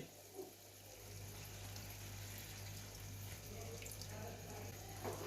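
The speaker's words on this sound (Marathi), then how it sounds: "कोमट पाणी जाईल" Lukewarm water runs in a soft steady stream into mutton keema mixed with roasted dry coconut paste, a quiet continuous pouring over a low background hum, with no voices.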